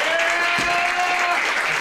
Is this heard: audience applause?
yes